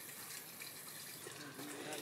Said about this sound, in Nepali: पानीको जरुवा भेटियो।